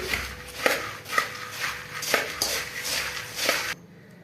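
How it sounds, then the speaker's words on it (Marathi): Murmura chivda ingredients being stirred in a pan, with repeated scraping and clinking strokes of a spoon against metal in a steady rhythm, close and moderately loud, no talking. "अशा पद्धतीने सर्व घेऊयात छान मिक्स करून."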